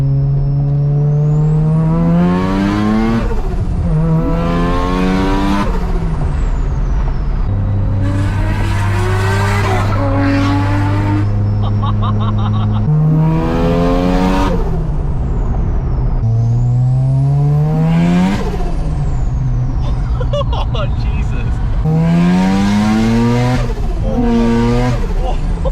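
A car with a 13B rotary engine, loud and close, accelerating in repeated pulls: each rising rev sweep climbs high, drops at the shift and climbs again, with a steady droning stretch midway.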